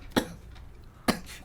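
A voice imitates a character coughing during a tabletop role-playing game session: two short, sharp cough bursts about a second apart, close and clear against a quiet background.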